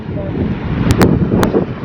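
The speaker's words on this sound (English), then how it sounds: "I like the wind." Strong wind buffets the microphone during a snowstorm, a rough continuous roar with a few sharp gust bursts, brief and close.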